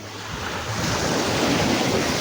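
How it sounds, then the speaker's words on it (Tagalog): Large sea waves surge and roll over at the shore, the water heaving upward and crashing over. A loud, continuous roar of surf mixed with wind buffeting, swelling slightly and then holding steady. "Ayan malaki yung alon."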